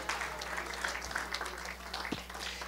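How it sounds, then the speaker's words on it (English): A church congregation claps their hands together, a dense, continuous wash of applause at moderate volume with a low steady hum beneath and no speech standing out. "You ought to clap your hands right now for the mercy of God."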